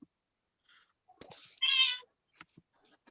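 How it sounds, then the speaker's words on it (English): A house cat meows once, a clear drawn-out call close to the microphone, with a few faint clicks and rustles before and after. "That's the cat."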